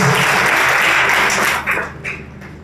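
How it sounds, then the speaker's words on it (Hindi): Applause from a church congregation during a sermon on the resurrection: dense, steady clapping that fills the room, then thins out and tapers into a few scattered claps. "बस आधा लोग ताली बजा रहे हैं"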